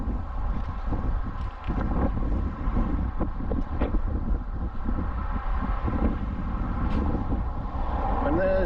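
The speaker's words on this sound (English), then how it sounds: "as you can hear the wind" Steady wind roars and buffets the microphone on a bridge, with faint traffic rumble underneath and some speech.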